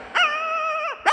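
A dog howls once in a single drawn-out, wavering cry that starts and ends with a sharp yelp. It sounds close, loud and alone.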